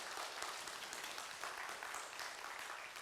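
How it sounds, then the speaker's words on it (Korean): Church congregation at a Sunday afternoon service applauds in a dense, even patter of many hands, fairly distant and quiet. "우리 청년들을 위해서 박수 한번 쳐줄까요?"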